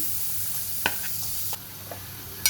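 Thinly cut onion, green chili and ginger frying in ghee, a soft continuous sizzle with a few brief spoon taps and scrapes against the pan.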